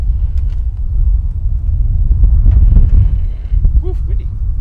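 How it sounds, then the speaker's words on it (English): Strong wind buffets the microphone with a heavy, steady low rumble throughout, faint sounds poking through now and then. "Woo, windy."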